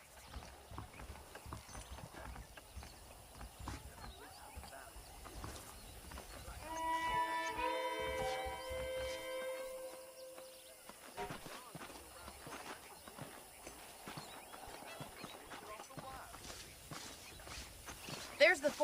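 Horse hooves clip-clopping at a steady walking rhythm while riding through a frontier ranch in Red Dead Redemption, moderately close, with someone talking throughout and a brief tonal swell midway.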